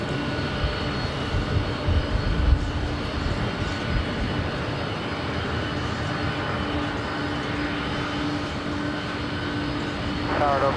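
Jet aircraft at Los Angeles LAX airport give a steady, broad engine roar that holds evenly for the whole stretch, with faint radio chatter underneath.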